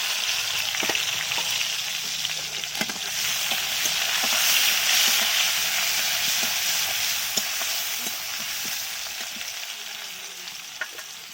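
Chopped onions and bay leaf frying in hot oil for an egg and kohlrabi-potato curry, a loud, continuous hiss and crackle with scattered pops and some stirring.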